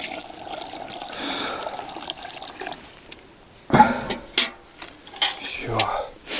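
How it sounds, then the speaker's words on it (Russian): Water pours and trickles into a kettle at a rustic taiga cabin, a soft continuous flow followed by several louder splashing bursts and clunks near the end. "долью воды"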